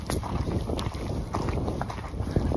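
Wind gusting steadily across a microphone outdoors on a snowy, windy evening, a loud continuous rumble and buffeting that persists throughout with no speech.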